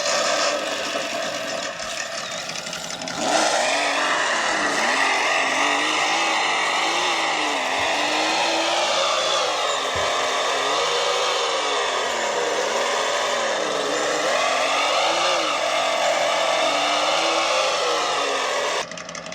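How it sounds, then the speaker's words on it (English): A Meus Racing MS-24 sound simulator on a mini RC crawler plays a turbo diesel engine sound, a steady loud rumbling drone with wavering pitch that starts abruptly after a few seconds of quiet and runs continuously. "we were going for like a turbo diesel sound"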